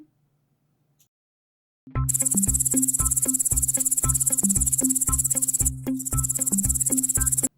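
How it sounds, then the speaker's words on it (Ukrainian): After a pause, a loud, dense insect chirring starts up and continues steadily, a shrill high buzz with rhythmic pulses underneath. "Коник стрибунець."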